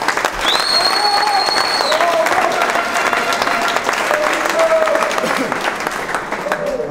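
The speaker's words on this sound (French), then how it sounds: "Et on l'applaudit." Dense, steady applause from a crowd at a rugby league club reception fills the whole stretch, with a few voices and whistles rising above the clapping.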